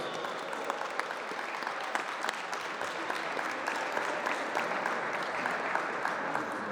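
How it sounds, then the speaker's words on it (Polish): An audience applauds at the closing award ceremony of a youth football tournament, a sustained, even wash of many hands clapping, moderately distant and steady from start to finish. "Wielkie brawa poprosimy dla nich."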